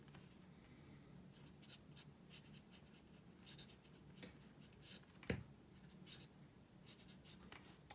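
A Traveler's fountain pen with a smooth Western fine nib writes orange ink on paper, making a faint, soft scratching at close range with one brief louder tap midway, all without any talk.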